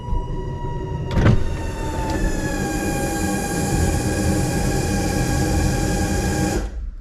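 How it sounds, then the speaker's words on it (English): A power window motor whirs steadily as the glass rolls down inside a 1999 Mustang GT with a cammed, Procharged 650 hp engine, the continuous tone running several seconds over a low cabin hum before cutting off. "Let me actually roll a window down in here real quick."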